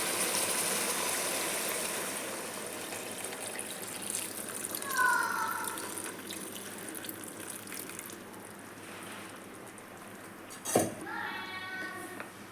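Basmati rice soaking water poured into a chicken biryani pot gives a steady watery gush, with a few clinks of metal utensils and a sharp knock near the end.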